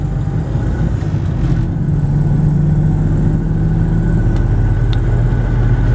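A car with a manual gearbox pulls away and drives on, its engine a loud, steady low drone with slight rises in pitch as it accelerates, heard from inside the cabin with no talk.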